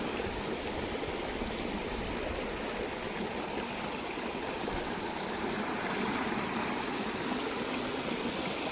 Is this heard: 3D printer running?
no